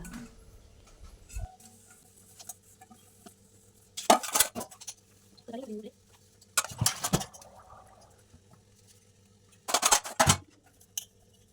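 Dishes and pots clink and clatter in a few separate bursts with quiet pauses between, like items being washed and set down nearby.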